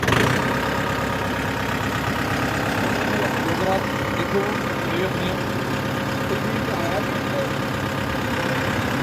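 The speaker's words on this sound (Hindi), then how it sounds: "तो अभी मैं इसकी आपको डेमो देता हूँ कि ट्रैक्टर चलता कैसे है।" A tractor engine runs at a steady idle-like drone, loud and continuous throughout with no gear clatter, while someone talks over it.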